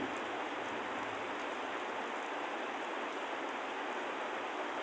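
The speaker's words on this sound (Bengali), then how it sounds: "প্রচুর দমে বৃষ্টি প্রচুর এত বৃষ্টি বলার বাইরে" Heavy rain falls steadily near the village of Chardanga under Nagarpur, a dense, even roar of drops on surfaces that stays loud and unbroken throughout, with no voices.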